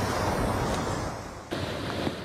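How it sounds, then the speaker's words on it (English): San Ysidro Creek swollen after a night of steady rain, rushing down off the mountains in a dense, steady roar of water, close and loud with no pauses. "You can see a whole lot more water's coming down now with a lot more force"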